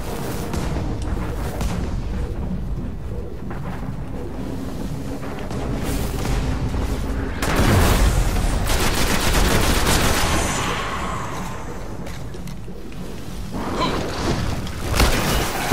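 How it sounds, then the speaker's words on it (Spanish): A spaceship firing in the video game Destiny: bursts of rapid gunfire and heavy booming blasts. The barrage swells loudest through the middle, with game effects and rumble continuing around it. "Hostia, es que la nave pega tiros, tú."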